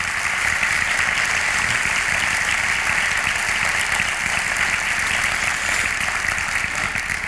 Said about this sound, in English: I'd like to have a little bit of a round of applause for both Norm and Sue